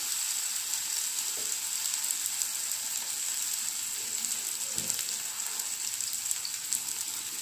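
Raw banana slices for a vegetarian fish fry crackle in hot oil with a dense, continuous, close sizzle, broken by a couple of soft thumps and no talk.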